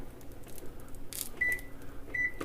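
A kitchen timer gives short, thin electronic beeps, two separate bleeps about a second apart, over low background clatter and room noise, with no talking.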